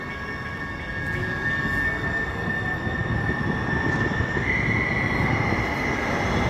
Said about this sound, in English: I'm at the railway station and I am going back.